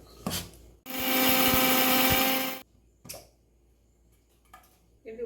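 A kitchen mixer grinder powders roasted spices and fried grated coconut in its jar, a loud steady whirring burst of about two seconds, with quiet clatter and brief sounds before and after.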